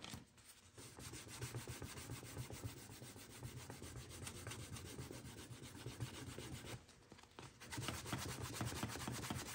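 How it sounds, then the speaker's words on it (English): Wax being rubbed by hand onto a leather knife sheath, a steady close scratchy friction that continues throughout with rhythmic back-and-forth strokes and a short pause near the end. "I'm gonna rub a little bit of wax on there."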